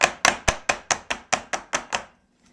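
Ten sharp, evenly spaced knocks as a tart pan filled with date bar mixture is tapped against a counter, each hit crisp and decaying quickly, followed by a brief quiet end.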